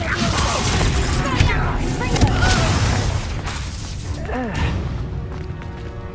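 In Hogwarts Legacy, the Confringo blasting spell sets off loud booming explosions amid a busy battle of whooshes and thuds, with voices and music mixed in.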